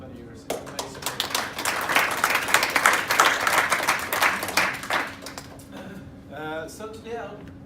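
Applause at a Seedforum event, a crowd clapping in a sustained wash for a few seconds before fading out, with speech following at the end.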